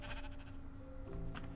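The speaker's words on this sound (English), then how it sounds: "Okay, there's plenty of sheep over here." Sheep bleat in the Minecraft SevTech modpack, a few faint, wavering cries over a steady game background, with no one speaking.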